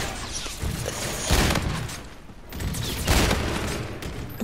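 Dense, rapid gunfire roars in Call of Duty Infinite Warfare, two loud sustained bursts separated by a short dip, with thumping impacts and a rough, crackling texture throughout.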